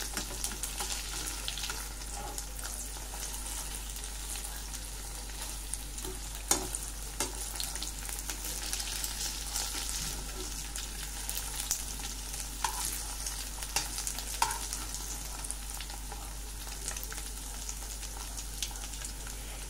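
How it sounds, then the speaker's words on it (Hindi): Surimi crab sticks frying slowly on low heat. A soft, even sizzle and crackle holds steady throughout, with occasional light pops and stirring taps, and a low hum sits beneath it. "देखिए फ्रेंड्स अभी फ्राई हो रहा है"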